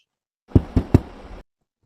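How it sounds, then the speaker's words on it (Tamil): Three sharp knocks rap on a door in quick succession, close and loud, followed by a brief rattle before silence. "என்னது கதவு தட்டு சொன்ன மாதிரி கேக்குது"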